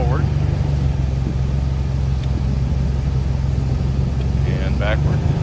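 A police auction car's engine idling steadily as it is put into gear and eased forward, a constant low rumble while someone talks over it and a brief squeak cuts through near the end.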